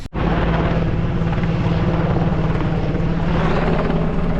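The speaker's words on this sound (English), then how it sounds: "Bring it in the helicopter, hopefully." A helicopter roars steadily and loudly nearby during Hurricane Helene relief deliveries, its rotor thumping in a constant, heavy drone throughout.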